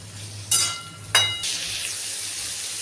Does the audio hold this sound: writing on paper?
no